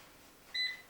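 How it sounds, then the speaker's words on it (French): An oven timer gives a single short electronic beep, signalling a shrimp quenelle gratin is finished baking. The tone is brief and fairly faint against quiet room noise. "Le four appelle."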